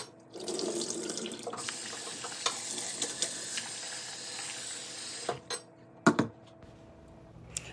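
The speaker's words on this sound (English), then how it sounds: "clean the rice by rinsing them 2-3 times" Tap water runs into a sink while sticky rice is rinsed by hand, a steady close rush of water for about five seconds, then a few brief splashes and knocks as the stream stops.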